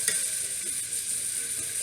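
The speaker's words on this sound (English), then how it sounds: "You hear that sizzle? This is what you want." Salt-and-peppered pork chops sear in a hot pan, giving a steady, loud, continuous hiss and crackle with no talking.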